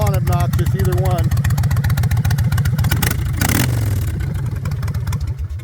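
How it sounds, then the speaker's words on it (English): A 2006 Kawasaki Vulcan 1600cc fuel-injected motorcycle rumbles loudly up close, a thick pulsing engine note that rises and falls, while someone talks over it at the start. "It's a loud bike."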